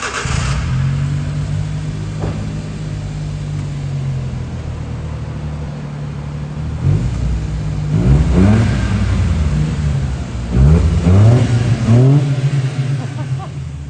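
A modified widebody kei truck drives along with its small engine humming steadily, then revs hard in several sharp bursts that rise and fall like a tuner car, loud and close.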